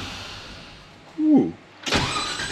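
A turbocharged LS1 V8 in a GU ute cranks and catches near midnight, bursting into a loud, rough running roar after a brief quiet lead-in with a faint chirp.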